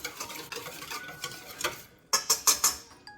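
Lemon juice, olive oil and garlic being stirred together in a bowl, a soft wet swishing that turns into four quick, crisp clinks of the utensil near the end, close and fairly quiet.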